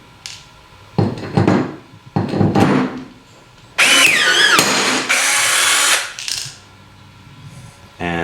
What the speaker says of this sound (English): And now you're ready to install blind bolts.